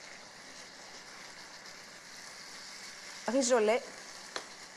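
Meat for Greek moussaka sizzles steadily in a frying pan, a soft continuous hiss with a brief spoken word over it near the end.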